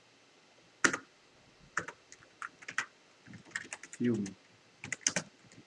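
Keys on a computer keyboard clack in short bursts of typing, with a single spoken word cutting in and a brief low thump partway through.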